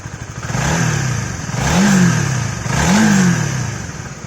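Honda CB150R motorcycle engine, recently repaired after a leaking cylinder head, idles up close with a steady rumble, then revs twice in quick rising swells that settle back to idle.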